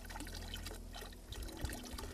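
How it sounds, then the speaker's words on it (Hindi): Water trickles and pours into a pot set up outdoors to heat for Maggi noodles, a close, soft continuous dribble over a low rumble of wind. "तो गाइज हमने पानी रख दिया है गर्म करने के लिए"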